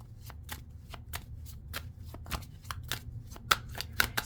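Tarot cards being shuffled by hand, a steady run of crisp riffling flicks and slaps at close range, about eight to nine quick bursts over a low background hum, with no talking.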